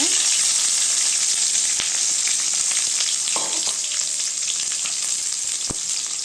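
Curry leaves and onion fry in a pan of hot oil for a potato kurma, producing a loud, dense, continuous sizzle with a few sharp crackles and light stirring, heard close with no voices.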